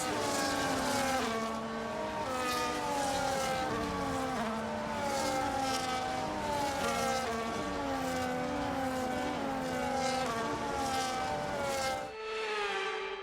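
Race cars in a Formula One style video game roll through a formation lap at Bahrain, their engines droning in layered, rising and falling tones throughout, loud and continuous with no talk.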